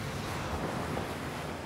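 Strong stormy wind at a boat docking near Saint-Malo roars as a dense, steady rush of noise, close and loud, mixed with the wash of surf.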